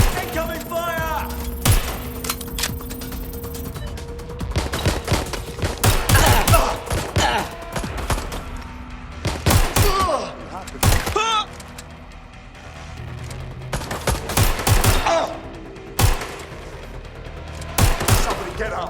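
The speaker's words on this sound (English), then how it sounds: "Taking fire! Incoming fire!" Gunfire in the Watch Dogs: Legion video game: volleys of rapid shots and bursts crack out at close range, mixed with thuds and crashes, while voices shout intermittently over the chaos.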